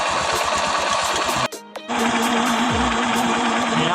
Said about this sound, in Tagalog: tumatalon-talon po na pitik na. Ayan ang problema ng motor ni Bossing.